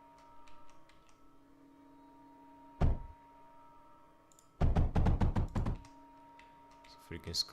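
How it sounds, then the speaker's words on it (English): A computer mouse scroll wheel flicked during a Mindustry modded playthrough gives a fast burst of ratcheting clicks, close and fairly loud, after a single sharp knock, over a steady background hum with brief speech. "Freaking scroll wheel. I flick it just a bit and it basically rotated the entire thing."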